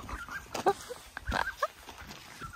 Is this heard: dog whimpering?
yes